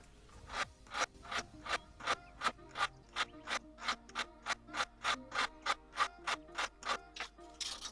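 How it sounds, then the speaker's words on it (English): A wire brush and file work over a scrap gold ring, its stone setting and shank, producing a close, steady run of about twenty quick scraping strokes in an even rhythm. "with ring 10 I use a wire brush to clean up the pattern setting around the stone, as well as filing the shank"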